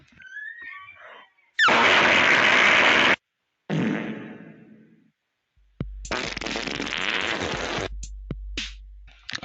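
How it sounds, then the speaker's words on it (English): Fart sound effects play as a loud run of sputtering bursts: a long blast, a shorter fading one after a pause, then a longer rattling stretch with small trailing pops near the end. "that is the end of the fart sounds"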